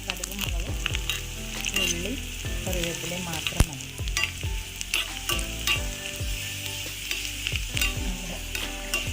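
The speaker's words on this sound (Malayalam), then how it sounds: "ചെറിയ ഉള്ളിയാണ് വറുത്തിടുമ്പോൾ ചേർക്കേണ്ടത്" Small onions (shallots) fry in hot oil for a tempering, sizzling loudly and steadily up close with scraping stirs, while a few words are spoken briefly.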